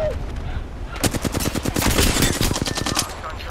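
Sustained automatic gunfire in the video game Wax Candle, a dense rapid rattle of shots that starts abruptly and continues loud and close over a background of game noise.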